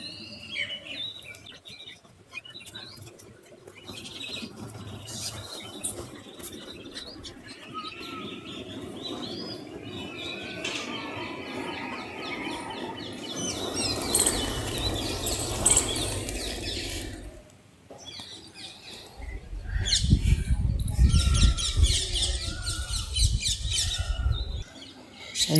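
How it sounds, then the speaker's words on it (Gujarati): Birds on a rooftop terrace call and chirp while wings flap as some take off, with coos and tweets rising and falling over a steady outdoor background and a louder burst of flapping near the end. "ધાબા પર તમને લોકો મિત્રો પક્ષી બતાવું, બધા બહુ બના પક્ષી।"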